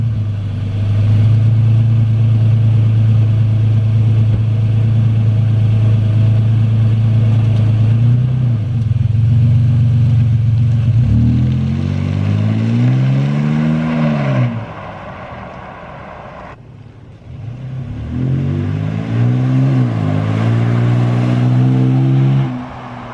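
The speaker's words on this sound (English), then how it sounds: "It is a Borla S-type exhaust, and I'll put a clip in here so you can get an idea of what it sounds like." A deep, rumbling 2017 Toyota Tacoma with a Borla S-type exhaust idles, then revs up twice in rising, throaty surges, with a brief drop between the pulls. Loud and close, with no voices.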